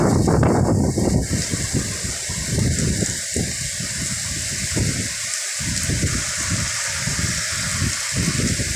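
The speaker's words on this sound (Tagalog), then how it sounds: "Ang lalaki pa ng mga patak ng ulan." Heavy rain with large raindrops pours down during a northeast monsoon (amihan) storm in the Philippines, a dense, steady hiss with a broad rushing wash and gusty rumble, loud and close.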